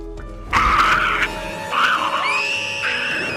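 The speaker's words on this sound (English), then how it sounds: "Hearing the screams, Mr. and Mrs. Jack rushed to their daughter'" A girl's scream in a narrated horror story, a loud, close, high wavering cry in two long drawn-out bursts with a short break between them.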